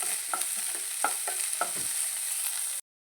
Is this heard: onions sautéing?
yes